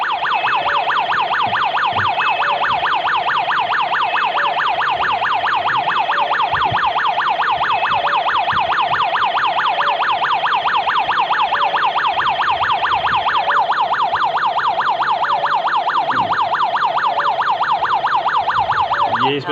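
An SOS home security system alarm siren blares continuously, a loud, fast warbling electronic wail that holds steady and close for the whole stretch, with faint clicks and handling beneath it.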